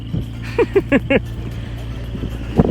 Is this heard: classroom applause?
no